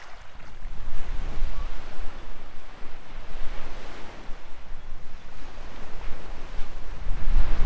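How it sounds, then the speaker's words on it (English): Gusty, cold wind buffets the microphone over a continuous wash of waves at the shore in Fairhope, Alabama, rumbling and uneven, with no speech. "it's breezy, windy, cold"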